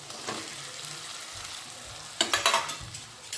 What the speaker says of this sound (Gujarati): બધું સરસ રીતે મિક્સ કરી દેવાનું.